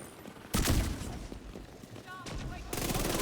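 ACS-12 automatic shotgun fire in The Division 2 comes as two loud bursts of rapid shots, the first short and the second starting near the end, with quieter game effects between.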